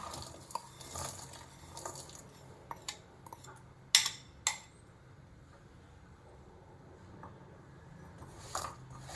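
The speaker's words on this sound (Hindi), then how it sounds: "अब इसके अंदर ये जो गुड़ हमने काट के लिया है वो मिक्स कर देंगे।" Chopped jaggery is stirred and tipped into a steel wok over a gas flame for gond ladoos, with scattered metallic scrapes and clinks and one louder clatter near the middle; no one speaks.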